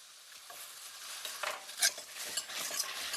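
A spoon stirs and scrapes through a sizzling pan as green chili is sautéed, giving steady frying hiss with sharper clinks of metal against the pan and no talking.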